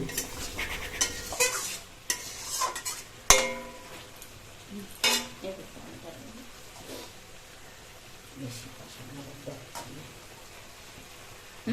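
A soybean curry with spices is stirred in a pan, with scattered scraping and clanking strokes of a utensil against metal over a soft sizzle, busier early on and calmer later, with no speech.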